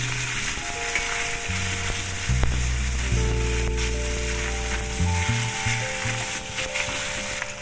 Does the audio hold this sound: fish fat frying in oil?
yes